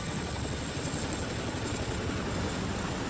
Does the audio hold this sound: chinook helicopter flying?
yes